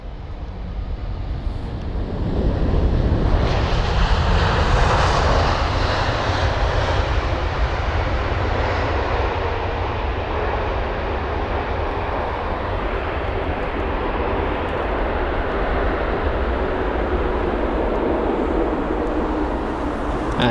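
Air India Boeing 787 Dreamliner jet arriving from Mumbai at London Heathrow, a loud steady engine roar with wind rumble that swells early and holds throughout, no voices.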